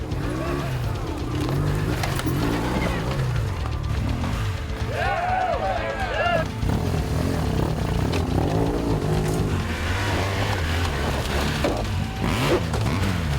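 Off-road motorcycles at a GS Trophy qualifier in the US Midwest, engines revving and straining over rough ground, fluctuating near and far with a rider's voice talking over the noise.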